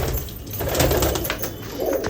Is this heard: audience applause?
no